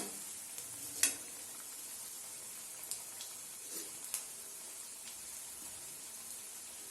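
Spinach kofta frying in hot oil, a quiet continuous sizzle with a sharp clink near the start and a few soft scrapes later.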